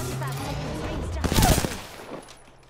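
Bursts of video game gunfire crack out in a quick cluster near the middle, loud and close, then fade into the quieter game ambience.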